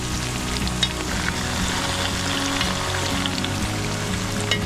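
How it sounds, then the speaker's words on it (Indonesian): Snakehead fish fritters (bakwan gabus) fry in hot oil, giving a steady dense sizzle and crackle that stays close and even throughout, with no one talking. "Emang nggak dibalik goreng kayak gini bang?"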